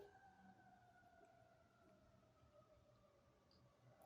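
A distant siren wails in long, slowly falling tones over low city traffic rumble, faint and steady throughout.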